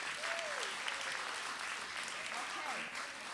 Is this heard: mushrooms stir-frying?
no